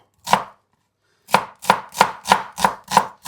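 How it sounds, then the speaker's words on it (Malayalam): A knife chops a small white onion on a board: one cut, a pause, then six quick, evenly spaced chops, crisp and close with nothing else heard. "കട്ട് ചെയ്തിടാം ഒരു ചെറിയ സവോള"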